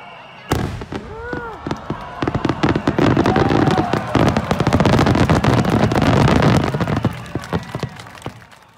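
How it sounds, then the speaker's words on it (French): Dense, continuous crackling and booming bursts of fireworks, loud and close, with whistling rockets rising early on and a steady barrage of pops. "pensez à aller voir les spectacles de feux d'artifice"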